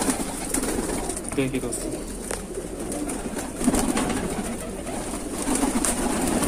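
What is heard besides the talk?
pigeon, Sajanpuri female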